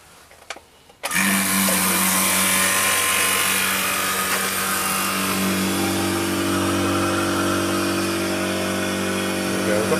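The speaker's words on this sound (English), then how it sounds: "when we come to run it up, it runs, but if you get any decent suction pressure on there, it stalls" A refrigeration compressor starts abruptly after a second of quiet and then runs steadily and loudly with a constant mechanical hum, labouring under restricted suction pressure with a fault that makes it stall.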